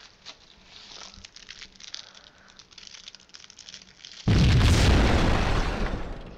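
In the Max Payne video game, a rigged building explodes with a sudden loud boom after quieter rustling game sounds, then a dense, crackling roar of debris slowly fades.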